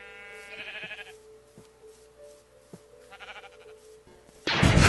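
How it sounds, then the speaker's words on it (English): Sheep bleat several times, wavering calls near and far, with faint rustling between and a sudden loud burst of noise at the end. "Maybe it was just the sheep."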